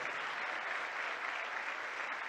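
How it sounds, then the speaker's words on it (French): Sustained audience applause for the president at a political speech event, a dense even wash of many hands clapping throughout with no voices standing out. "Avec nos ovations bien nourries"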